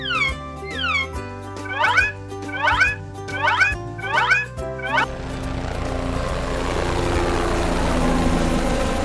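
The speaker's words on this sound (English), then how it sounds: "Chinook helicopter." A toy Chinook helicopter gives repeated rising electronic whirring sweeps, then switches to a steady, noisy rotor-and-engine drone that holds at close range.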